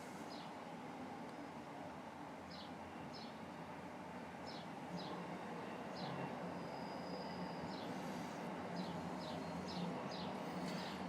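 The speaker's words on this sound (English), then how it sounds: "There goes our train." A train rumbles past at a distance as a broad, continuous roar with faint wheel clicks and light squeals over it, steady throughout with no talking.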